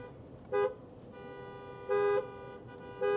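A car horn honks three times, short beeps spaced unevenly over a low engine hum, fairly close.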